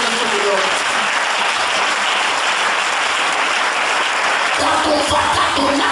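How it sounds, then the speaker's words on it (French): A congregation at a church service claps in loud, dense applause that runs steadily for several seconds, with voices mixed into the clapping. "Put your hands together for the Lord."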